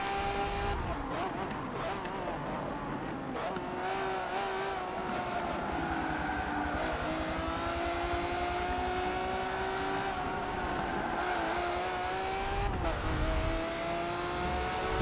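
A Lamborghini race car of over 600 horsepower in Forza Motorsport 7 holds a continuous, loud engine drone with shifting pitch and occasional tire noise, steady throughout.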